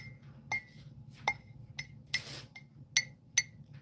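Several light, bright clinks of a spoon against a teacup as tea leaves are pushed down, spaced irregularly over a low background hum, with one brief rustling scrape in the middle.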